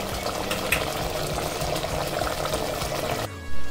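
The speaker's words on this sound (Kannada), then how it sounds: "ಸ್ವಲ್ಪ ಬಾಯ್ಲ್ ಮಾಡ್ಕೋಬೇಕು ಚಿಕನ್ನ ಮಸಾಲ ಜೊತೆಗೆ" Chicken and masala cook in a pot for Mysore-style chicken pulao, producing a busy, bubbling boil with a steady wet churning texture; the sound cuts off near the end, followed by a brief low thump.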